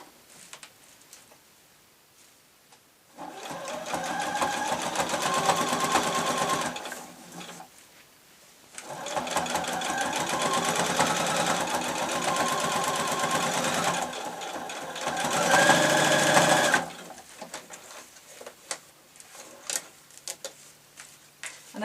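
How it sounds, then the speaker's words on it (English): Sewing machine stitching through calico and wadding for a shabby chic tablet case, running in three steady close bursts separated by short pauses, with no talk over it. "I'm sewing straight through the calico and to the wadding as well"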